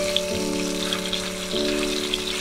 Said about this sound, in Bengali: এইভাবে দিলে দেখবে মাছটা তাড়াতাড়ি সুন্দরভাবে আরো ভাজা হয়ে যায়